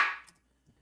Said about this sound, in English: It's just a clap that is reverb to hell with a tiny reverb size.